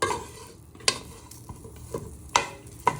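Chorizo frying in a pan and stirred with a wooden spoon, a soft low sizzle broken by a few distinct knocks and scrapes of the spoon, close and with no talking.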